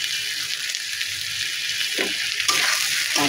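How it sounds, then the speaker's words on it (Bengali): Dried and green chili paste with salt and turmeric sautés in a pan for a hilsa curry, giving a continuous soft sizzle with a few scraping stirs toward the end; no voices. "ভালোভাবে কষিয়ে নেব।"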